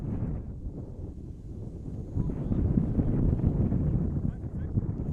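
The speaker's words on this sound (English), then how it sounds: "we got more heavy gusts blowing through" Heavy wind gusts sweeping across an outdoor high school boys' soccer field, a low rumbling buffet against the microphone that strengthens midway and stays loud and continuous.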